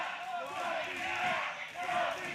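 Wrestling arena crowd at a live event, a sustained roar of cheering and chanting voices rising and falling, heard at a distance with an announcer talking over it.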